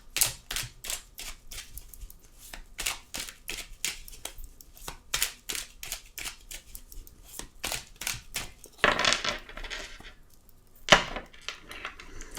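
Tarot cards are shuffled close up in a quick run of crisp, repeated slaps and riffles, with a few sharper snaps near the end.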